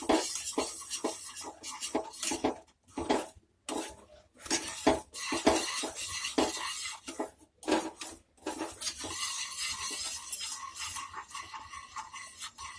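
A spoon scrapes and stirs a thick flour mixture for Mysore pak in a metal pan, with continuous close rasping and knocking strokes broken by brief pauses.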